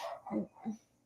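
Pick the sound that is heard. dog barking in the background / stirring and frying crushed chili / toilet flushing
dog barking in the background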